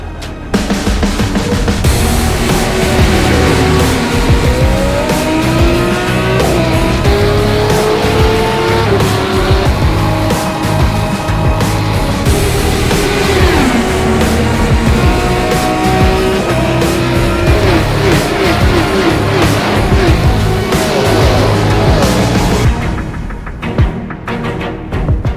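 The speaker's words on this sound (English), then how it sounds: "This is the original esport racing game. This is iRacing." A Formula 3 car in the iRacing sim at Watkins Glen International roars continuously with rising and falling engine revs through gear changes, with tire squeal mixed in, loud and steady until the sound cuts off near the end.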